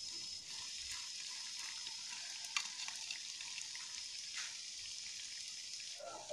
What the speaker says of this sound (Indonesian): Kita goreng sampai warnanya berubah kecoklatan ya teman-teman.